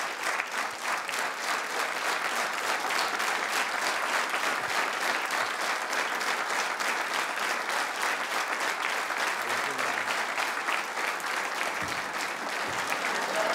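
A studio audience gives sustained, dense applause for guest Bob Klepl on a talk show, loud and even for about thirteen seconds.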